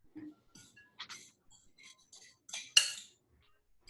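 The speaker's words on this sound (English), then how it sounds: "So you can get out like a big pan." A big pan is pulled out in a kitchen while making pierogi, giving a few light metallic clinks and clanks of pots and dishes, scattered and close, with one sharper clatter near the end.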